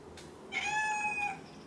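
A single kitten in a room of rescued feral cats gives one clear, drawn-out meow at close range against a quiet background.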